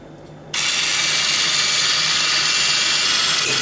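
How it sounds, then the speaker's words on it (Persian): Electric mixer whipping egg whites to stiff peaks for a cream Swiss roll: a motor switches on abruptly and runs at a loud, steady high-pitched whir, close and continuous, with no talk. "من سفیده رو هم میزنم به اندازه‌ای که سفت بشه"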